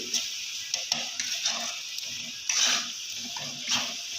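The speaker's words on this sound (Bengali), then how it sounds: "আমি আরও একটুখানি কষিয়ে নেব ভালো করে যতক্ষণ না পুরো তেলটা ছাড়ছে" Fish masala sautéing in oil in a pan for an amodi fish curry, a steady soft sizzle with occasional stirring scrapes and a couple of louder bursts, close by with no talking.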